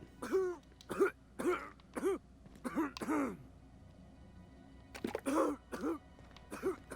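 A video game character in The Outer Worlds coughs in a run of hoarse, raspy short bursts, a cluster, a brief pause, then more coughing; close and fairly clear.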